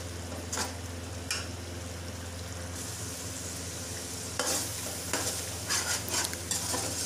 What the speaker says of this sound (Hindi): पालक डाल के हम इसको 2 से 3 मिनट के लिए पकाएंगे